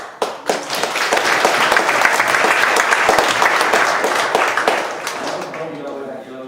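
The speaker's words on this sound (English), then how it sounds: "just want to give them a big applause" A room of attendees at a community leadership academy event bursts into applause, with a few sharp early claps swelling into steady, dense clapping that fades near the end.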